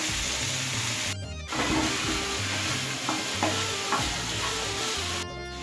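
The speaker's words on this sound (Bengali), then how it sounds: "এবার বেগুন আর আলুটাকে ভালো করে ভেজে নেব" Eggplant and potatoes fry in a pan with green chili, salt and turmeric, a steady close sizzle broken by scraping stirs and a couple of brief pauses.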